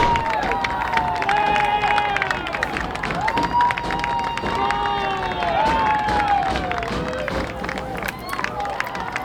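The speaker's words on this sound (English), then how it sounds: "As the Boston Latin Academy crowd going crazy here in Dilboy Stadium." A high school soccer crowd at Dilboy Stadium cheers and shouts loudly after a goal, with excited voices and yells rising and falling in a dense roar over the whole stretch.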